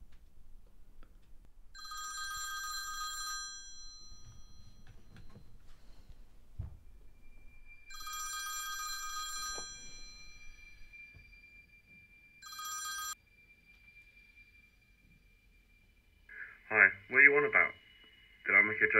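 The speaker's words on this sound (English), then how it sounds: "Jack, where's your phone?" A mobile phone ringing in a quiet room, its electronic ringtone sounding in three separate bursts with silence between them, then a short melodic tone near the end.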